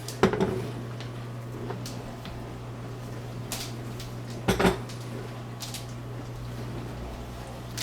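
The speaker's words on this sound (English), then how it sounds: "Just turn the lid. Open up." Lid of a Ninja Foodi being twisted and lifted open, with a clunk at the start and a louder double knock midway over a low steady hum, plus faint light rattles.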